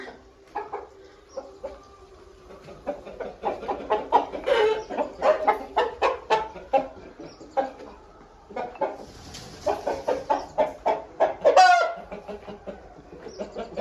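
Chickens cluck repeatedly in busy bursts, fairly close, with a short pause midway and a louder squawking flurry near the end.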